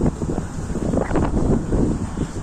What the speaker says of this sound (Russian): Очень сильный ветер, посмотрите.